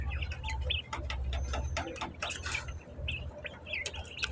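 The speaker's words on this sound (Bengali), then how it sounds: "সাদা পাখিগুলো মোবাইলের মধ্যে ঠোকর দেয়" White birds chirping and tapping close to a phone, bright short tweets over a steady low fan hum, along with a few sharp little clicks that could be pecks.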